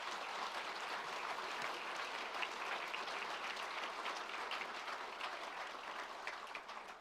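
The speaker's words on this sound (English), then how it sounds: "So I think he deserves a huge round of applause." A graduation audience at a School of Engineering ceremony gives a long, steady round of applause, dense clapping from many hands sustained evenly and fading slightly at the end.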